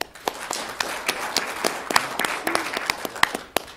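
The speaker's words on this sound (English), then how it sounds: "Sue, nice round of applause for Sue." Audience applause at a college pitch competition final, with scattered individual claps standing out over a softer background of clapping from the crowd.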